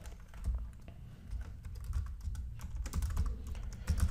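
Soft, quick typing on a computer keyboard while filling in a software trial request form, a steady patter of keystrokes set against low rumbling background noise.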